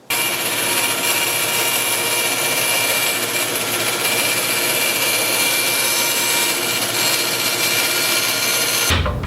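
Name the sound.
bandsaw cutting wood scrap for dominos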